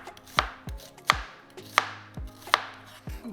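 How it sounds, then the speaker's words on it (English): A knife cuts through a white onion on a cutting board in five evenly spaced crisp slices, each ending in a soft thud, close and clear with no talking. "we're gonna just slice our onion"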